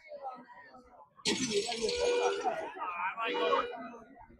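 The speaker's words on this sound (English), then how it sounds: "When the foul ball gets hit, they have the shattering glass up on there." Shattering-glass sound effect on a baseball broadcast's foul-ball graphic: a loud, bright crash bursts in and rings for about a second, with an announcer talking steadily before, during and after it.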